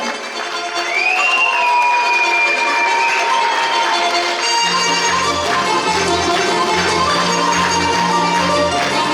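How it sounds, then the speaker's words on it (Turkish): Audience applause fills a hall at a Tatar culture festival, a steady broadband clatter of many hands sustained throughout, with a tonal musical sweep early and low sustained tones joining in the second half. "Бурные аплодисменты, дорогие друзья"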